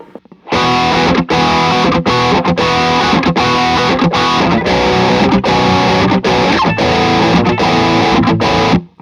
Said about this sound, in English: Here's the Amazon distortion, which I hate, but whatever.